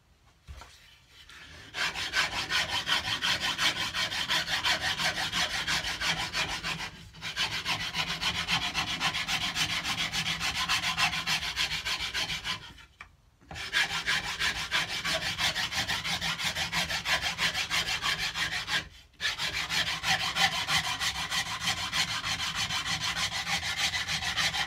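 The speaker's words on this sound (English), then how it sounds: "now I'm going to graduate to the stick that's got the coarse sandpaper on it" Coarse sandpaper on a stick rubs back and forth along the wooden neck of a cigar box guitar, a steady close-up scraping rasp that runs almost continuously, with a few brief pauses.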